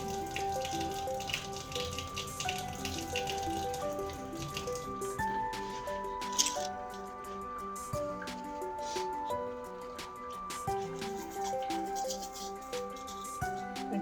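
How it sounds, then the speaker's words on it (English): Kitchen sink tap running steadily as items are rinsed under the stream, a continuous close splashing hiss with soft musical tones in the background. "what I've done is just run them under some sink water there"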